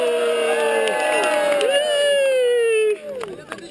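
A large crowd in Pakistan shouts and cheers at close range, with overlapping whooping voices that drop away into scattered calls near the end.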